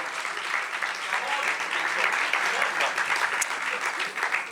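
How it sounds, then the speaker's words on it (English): Audience applause for the Modern Cajun Jazz Ensemble at a Dallas Arts Month kick-off event, a dense, steady wash of many hands clapping from a crowd at moderate distance. "Please give a round of applause to our opening performers"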